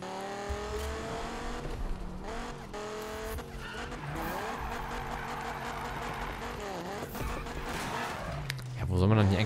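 Race cars in the Need for Speed video game on PS4 roar and shift through revving engine tones, with tire skids and squeals, while someone talks over the driving.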